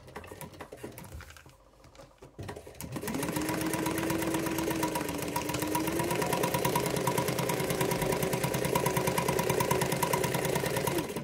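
A sewing machine runs a steady rapid stitch along the edge of a zipper pouch at a half-inch seam allowance, a close mechanical patter after a brief quiet start, with no voices.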